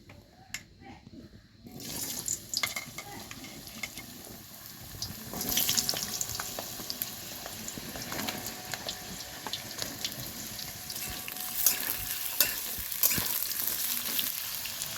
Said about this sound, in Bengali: এবার আমি তেলের মধ্যে লম্বা লম্বা করে কেটে রাখা আলুগুলোকে দিয়ে দেবো